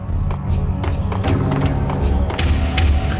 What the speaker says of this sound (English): I'm a fan of the baseball bats sound effects